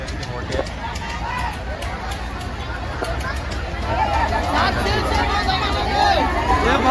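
Dense crowd at a busy morning fish market in Alibag, a continuous babble of many voices close by, rising a little in the second half.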